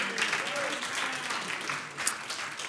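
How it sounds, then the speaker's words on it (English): An audience claps steadily, a dense patter of applause from a room full of people, continuous throughout. "Give him a round of applause."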